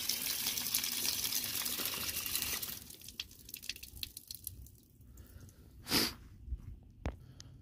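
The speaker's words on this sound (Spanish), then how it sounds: "Ahora voy a prender la llave para ver que está funcionando" Water from an outdoor wall hydrant hose bib runs in a steady, near rush for the first few seconds, then settles into lighter trickling and splashing with a couple of sharp bursts.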